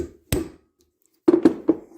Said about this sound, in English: I'm using a regular hammer, and I want to give it a sharp blow.